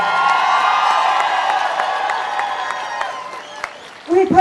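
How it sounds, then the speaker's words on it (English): A crowd applauds at the Dayton Women's Rally in January 2018, steady clapping and a few whoops filling the space before fading, then a voice begins speaking at the end. "Please give my friends another round of applause"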